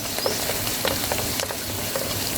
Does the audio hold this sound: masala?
yes